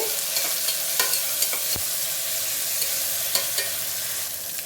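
Tomato pieces with curry leaves and chili sizzle steadily in a frying pan, with occasional stirring scrapes over the constant hiss, close and without talk.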